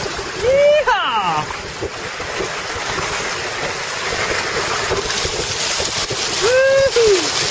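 A light-craft sailing trimaran speeds across open water, its hulls hissing and splashing loudly and continuously up close, while a person whoops and shouts with excitement at the start and end.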